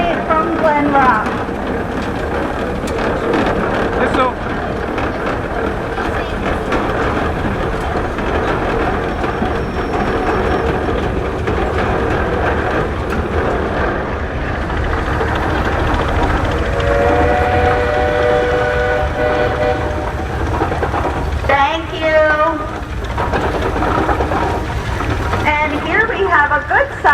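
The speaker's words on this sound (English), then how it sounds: "It's a 1923 Frick steam traction engine. It's a 7x10 double cylinder, 60 horsepower." A 1923 Frick steam traction engine, 7x10 double cylinder and 60 horsepower, rolling in an antique tractor parade, gives a steady mechanical rumble beneath continuous announcer talk and crowd noise, with short whistle-like tones near the end.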